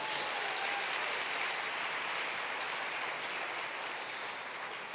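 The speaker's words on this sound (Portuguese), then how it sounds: "Você pode dar um aplauso ao Senhor Jesus?" A church congregation breaks into applause for several seconds, a dense, even wash of clapping heard at a moderate distance and fading slightly toward the end.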